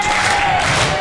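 A wrestling arena crowd cheers and roars in a loud, steady burst that fills the whole moment, with no single voice standing out.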